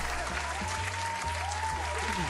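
Continuous clapping from many hands in Final Fantasy XIV, dense and even, layered over a low droning music bed.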